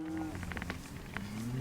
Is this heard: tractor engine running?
no